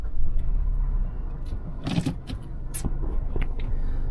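A taxi car pulls away in city traffic, a low engine rumble building inside the cabin, joined by a few clicks and rattles and one sharper mechanical clunk, with no voices.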